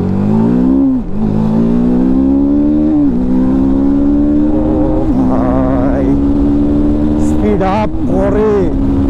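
A TVS Apache RTR 310 motorcycle engine starting up and revving loud and close, its pitch climbing and falling through repeated throttle blips over about nine seconds.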